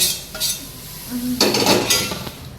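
Spiced puffed rice is tossed and stirred in a pan, with close scraping and clinking of a spoon against metal in a few quick rustling bursts.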